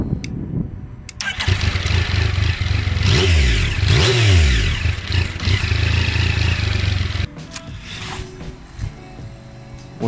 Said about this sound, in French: même d'origine, le son du 3 cylindres est vraiment intéressant.